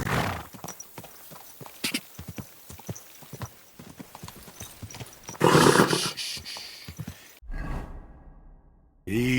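Horse in Kingdom Come: Deliverance 2 gallops with rapid, rhythmic hoofbeats that end in a loud, close neigh, then a brief swoosh and quiet.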